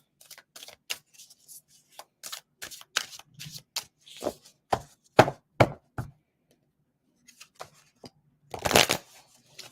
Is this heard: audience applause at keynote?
no